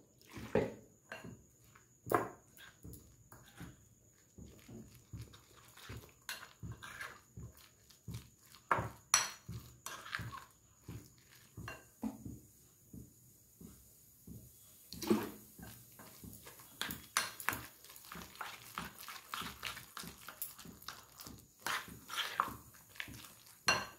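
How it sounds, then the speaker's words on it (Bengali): Water added little by little to egg pakora batter in a bowl and stirred, heard as repeated close clinks and scrapes of a spoon against the bowl with soft wet mixing, fairly quiet and without talk. "অল্প করে জল দেবো"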